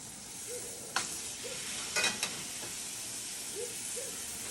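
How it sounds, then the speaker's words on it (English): Pork chops frying in a pan with butter nearby, a steady soft sizzle throughout, with a few clinks and scrapes as the chops are flipped. "Alright, we're ready to flip these chops now."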